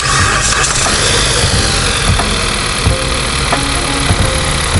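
A Dodge Journey engine runs steadily after an overhaul, a loud continuous idle with a dense even rumble and faint ticking throughout, close by in a workshop with no talk.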